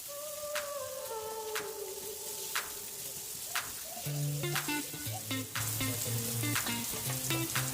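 Garlic fries in a pan with a steady crackling sizzle, and stirring clatters intermittently while a soft tonal hum plays underneath.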